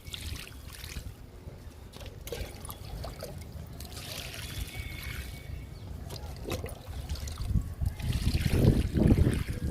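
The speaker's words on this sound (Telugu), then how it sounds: "ఇప్పుడు కొంచెం వాటర్ పోసేద్దాము" Water trickles and splashes as it's poured into garden tubs of soil before sowing bean seeds, with soft gurgles and a louder pour toward the end.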